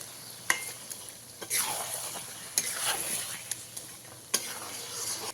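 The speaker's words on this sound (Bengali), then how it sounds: "এবারে খুব ভালো করে মশলার সাথে চিকেনটাকে মিশিয়ে নিতে হবে" Marinated chicken pieces being stirred with spices in a pan for a potato chicken curry: soft scraping and shuffling strokes over a low sizzle, with a few sharp utensil clicks against the pan and no talking.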